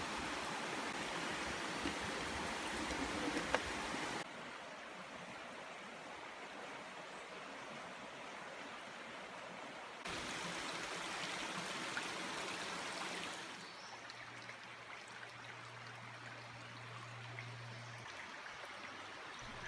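A waterfall on Howard's Creek rushes in a steady broadband roar, continuous and close, with no voices over it.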